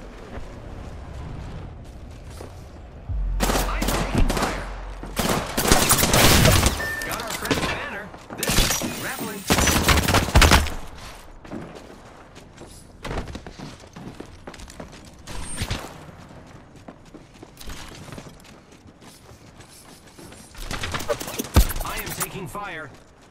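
Gunfire and impacts in an Apex Legends match come in scattered loud bursts with crackling, shattering hits and quieter gaps between them, while in-game voices speak intermittently.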